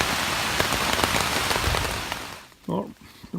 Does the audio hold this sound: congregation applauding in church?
no